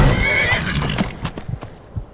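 A horse in the video game Skyrim whinnies loudly with a shrill, wavering call, followed by several clip-clopping hoof steps that fade toward the end.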